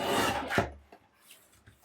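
A short rasping cut as a paper trimmer slices the top off a piece of paper during a napkin and vellum page-pocket craft project, followed by a few faint soft paper rustles.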